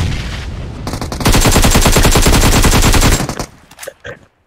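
Rapid bursts of automatic gunfire in a video game firefight, loud and close, a sustained volley of evenly spaced shots that cuts off abruptly and is followed by a few scattered quieter pops.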